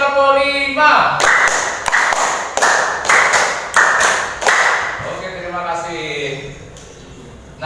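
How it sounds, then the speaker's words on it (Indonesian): A classroom group claps along to a counted routine, a series of sharp, loud hand claps in quick succession with voices speaking over and between them. "2 kali tepuk"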